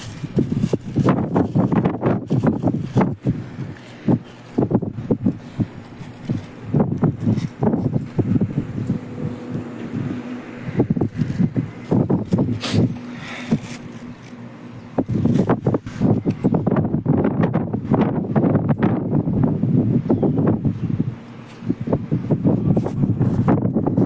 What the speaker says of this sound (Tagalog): Mahangin talaga, idol.